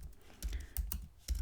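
Quiet typing on a computer keyboard, a few scattered key clicks with short pauses between them, faint and close.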